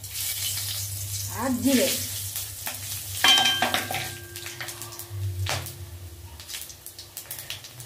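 Bay leaf, dried red chilli and garam masala sizzle and crackle in hot oil for a raw banana kofta curry, with stirring throughout and a voice speaking briefly.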